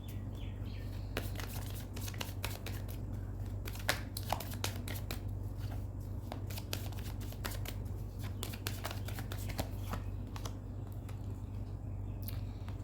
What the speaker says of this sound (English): We'll also pull another card to see how things will